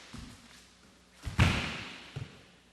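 Bodies hitting a wrestling mat during a double leg takedown, a soft thump followed by a heavier thud and then a lighter knock, fairly close.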